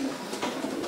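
A low, soft pigeon coo rolls through the whole second, steady and close, with faint rustling around it.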